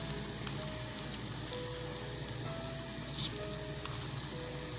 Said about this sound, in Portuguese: coloco aqui no óleo quente e vou fritando